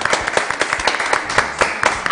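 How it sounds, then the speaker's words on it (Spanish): A studio audience on a weekend television program applauds. The clapping is dense and steady, with sharp individual claps standing out, and lasts about two seconds at full volume with no talk over it. "Aplausos, gritos y ovación para la gente de Avellaneda."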